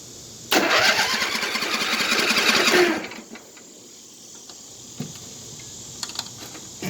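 An LT1000 lawn tractor's small engine cranks and catches, running loud and steady for a couple of seconds close by, then cuts out, leaving quiet with a few faint clicks.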